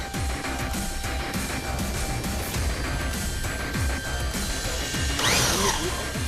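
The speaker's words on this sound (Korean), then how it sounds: "다음은 드릴로 직접 뚫기 시작한다" Power drill grinding steadily into a heavy steel safe of over 700 kg in a safe factory, a continuous dense mechanical whine with repeated knocks, rising louder near the end.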